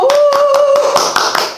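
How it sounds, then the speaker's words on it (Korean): Clapping from a small audience at a company training session, a short burst of scattered hand claps with a voice briefly speaking over the start. "박수!"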